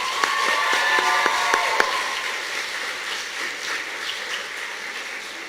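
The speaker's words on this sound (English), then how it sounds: "Give them a round of applause." Sustained applause from an audience at a students' union election results announcement, a dense, even wash of clapping that fades slightly toward the end.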